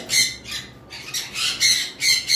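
Lovebirds of high mutation varieties and cockatiels with chicks at a bird farm squawk in repeated harsh, bright bursts, several loud calls in quick succession, close by with no talking.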